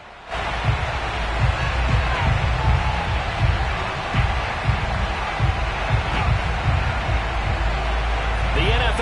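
A Buffalo stadium crowd roars continuously in an EA Sports football video game as the Bills take the field, a dense, steady wash of cheering with a commentator talking over it.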